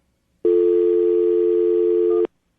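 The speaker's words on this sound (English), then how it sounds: "I'm going to dial the number right now, see if we can get her on the phone" A single steady telephone tone hums for about two seconds, then cuts off abruptly, with no voices.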